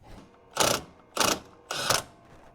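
A Milwaukee Gen 2 power tool works loose bolts on a Cub Cadet RZT 50 mower, giving three short, close mechanical rattling bursts in steady succession.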